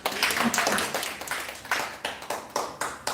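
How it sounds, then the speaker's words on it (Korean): An audience at a church seminar applauds, a dense burst of clapping thinning into a few separate, evenly spaced claps, fairly close and without talk. "박수해 주세요."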